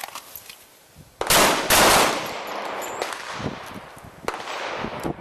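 A volley of handgun shots on a defensive shooting course: several loud, sharp cracks in quick succession, followed by scattered further shots at uneven intervals, with no voices.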